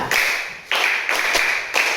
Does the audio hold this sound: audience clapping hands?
yes